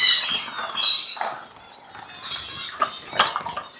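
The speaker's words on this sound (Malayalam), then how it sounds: "Pied parrot Finch. പാരറ്റ് ഫിഞ്ചുകൾ ഇഷ്ടംപോലെ നമ്മുടെ നാട്ടിലുണ്ട്." Pied parrot finches give thin, high chirps and twittering calls close by, overlapping in quick bursts with brief pauses.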